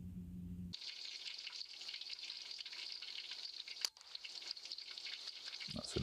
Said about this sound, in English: I've got these sizzling away